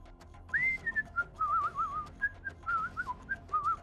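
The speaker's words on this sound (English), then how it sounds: "the faint sound of whistling" Someone whistles a light, bouncy tune faintly in the distance, the melody wandering through short phrases.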